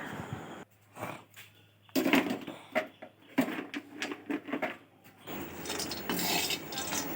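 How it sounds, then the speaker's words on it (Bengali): Whole spices dry-roasted in a pan for a fish bait masala, stirred with irregular metallic scrapes and clinks against the pan, close by, separated by brief quiet stretches. "তো মশলাগুলো একে একে আমরা এইভাবে ভেজে নিচ্ছি"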